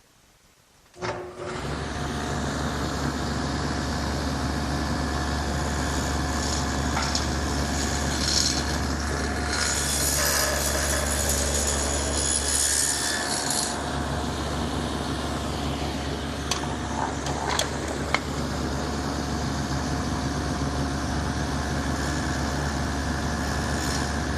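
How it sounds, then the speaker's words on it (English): Table saw with a dado head cutting grooves in small pieces of wood: after a thump the motor spins up to a steady loud drone, with a brief higher whine of blade cutting through wood partway through. "I'm going to do it on the table saw with my dado head and the T-square"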